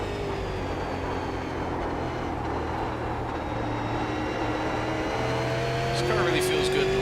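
Super Late Model race car in a racing video game at Thompson, a steady engine drone with harmonic whine held throughout, rising slightly near the end, with a voice talking over it.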